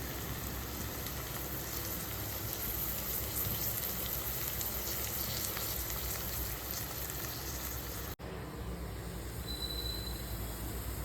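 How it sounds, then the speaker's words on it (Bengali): Chopped onion and chilli frying in mustard oil in a wok, a steady dense crackling sizzle close by that runs throughout with a brief break near the end, no voices. "এবার কড়ার মধ্যে সর্ষের তেল দিয়ে প্রথমেই আমি পেঁয়াজ কুচি আর লঙ্কা কুচিটাকে ভালো করে ভেজে নেব"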